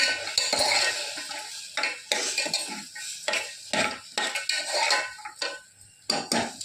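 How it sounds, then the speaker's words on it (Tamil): Spiced masala with coriander powder, turmeric and garam masala sautéed in a pan, with repeated scraping stirs of a spoon against metal over a sizzling fry, close and continuous. "நல்லா வதக்கிடுங்க"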